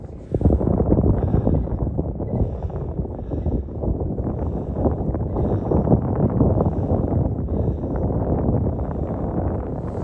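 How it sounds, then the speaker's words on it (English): Strong wind blows across the High Line park by the icy Hudson River in New York in winter, buffeting the microphone with a loud, continuous low rumble that gusts and swells throughout. "The wind is brutal."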